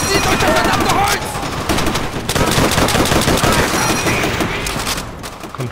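Rapid, sustained machine gun fire from the video game Call of Duty: World at War, loud and dense bursts rattling continuously with little pause.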